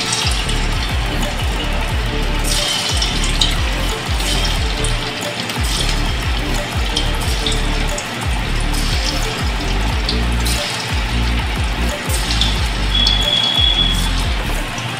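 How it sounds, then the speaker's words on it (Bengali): Chicken keema pakora balls drop into hot white oil in a wok and fry with a steady, dense sizzle that holds loud and close throughout, with no talking. "কড়াইতে দিয়েছি সাদা তেল, তেলটা গরম হয়ে গেছে। এবার বলগুলো দিয়ে দিচ্ছি।"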